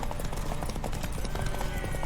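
Horse hooves clip-clopping in the video game The Witcher 3: Wild Hunt, a steady rhythmic trot of close, moderately loud hoofbeats with game ambience underneath.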